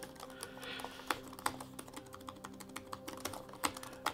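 Typing on the keyboard of a Samsung Galaxy Book3 Ultra laptop gives quiet, close clicks and clacks in an uneven run of keystrokes, with a few sharper taps standing out.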